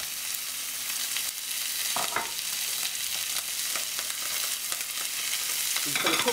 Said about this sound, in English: Put some butter into the pan and then put our cabbage into the pan as well.